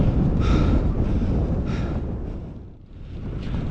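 An easterly wind buffets a microphone on a bike ride under a clear sky: a loud, steady low roar swelling and easing, with no voices.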